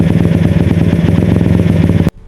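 A motorcycle engine sputters at close range with a rough, steady clattering pulse for about two seconds, then cuts off abruptly.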